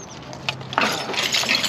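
Broken glass pieces gathered from the bottom of Lake Natoma during a dive clink and rattle against each other in a few quick, bright, close bursts.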